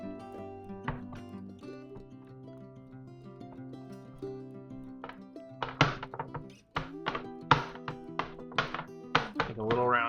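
Rye bread dough kneaded on a work surface, giving a run of dull thunks and taps that speed up into irregular bursts, under a steady background hum with someone talking.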